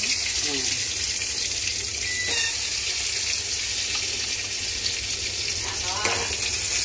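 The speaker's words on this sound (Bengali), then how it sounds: "এখন আমি পটলগুলো ভেজে নেব।" Pointed gourd and spiny gourd frying in a pan give a steady, close sizzling hiss that holds at an even level throughout.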